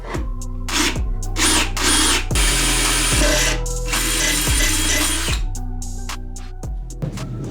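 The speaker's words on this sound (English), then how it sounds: "drill a hole on the bottom of this battery box" A power drill bores a drain hole through the bottom of a battery box for a homemade electric dirt bike, heard as repeated close, loud bursts of whirring with short pauses between them and no talking.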